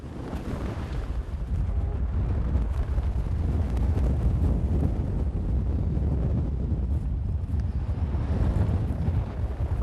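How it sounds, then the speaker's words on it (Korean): Strong gusting sea wind buffets the microphone outside a lighthouse offshore, a loud continuous low roar with steady rumble throughout and no talking. "등대 밖으로 나가자마자 휘몰아치는 바람"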